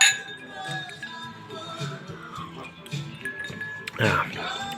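Glasses clink during a toast with rakia, bright chiming taps heard near the end, with people talking throughout.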